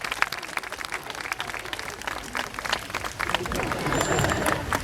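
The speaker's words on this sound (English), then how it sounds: "I think he deserves a massive round of applause for that impression." Audience clapping at a sea lion show at Blackpool Zoo after a sea lion's impression, a dense crowd applause that swells and grows louder toward the end.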